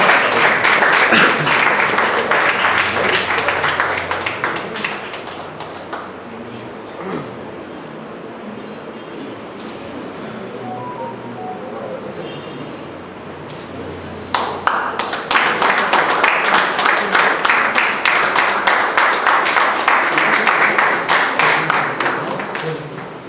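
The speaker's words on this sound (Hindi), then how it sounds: "उनके लिए तालियां दीजिए" A loud audience at a book launch applauds for several seconds, quiets to a murmur, then breaks into another long, sustained round of clapping.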